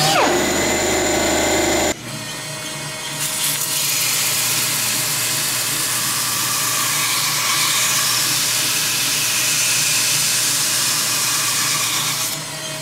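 A dual-action sander works on metal parts in a fabrication shop, a steady loud whirring grind that holds for about eleven seconds after a brief burst of other noise at the start.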